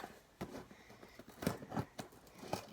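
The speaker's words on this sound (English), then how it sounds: "Okay, so I have some scissors right here." Scissors snip and crunch into the cardboard of a perfume box, making several quiet, separate cuts close by.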